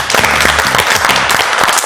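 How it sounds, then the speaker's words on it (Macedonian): Loud, close applause from a studio audience on a Macedonian cooking reality show, continuous clapping filling the whole moment with a low hum underneath and no speech. "Аплауз."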